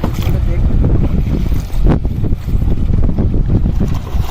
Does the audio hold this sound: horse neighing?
no